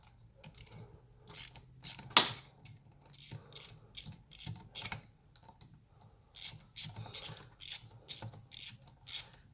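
Screws being undone on a car's mass airflow sensor, a rapid ratcheting click repeated in short regular bursts, close and clear with brief pauses between strokes.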